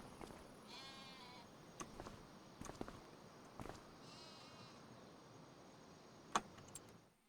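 Sheep bleat in a farming video game, several calls at moderate distance with pauses between them, over a steady low background hum.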